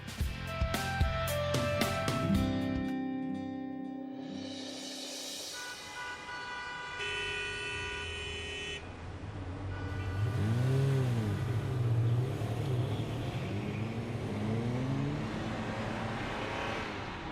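A car drives along a road with engine noise throughout and horns honking in passing traffic, set under dramatic background music, with no talking.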